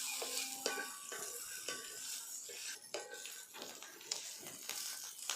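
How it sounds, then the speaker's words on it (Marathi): Garlic, green chillies and peanuts roast on a hot tava for a spicy brinjal thecha, with a steady dry sizzle and frequent scraping, clinking stirs of a metal spoon against the pan. "याच्यामध्येच टाकून घ्यायचं आहे लसूण मस्त भाजून घ्यायचं आहे"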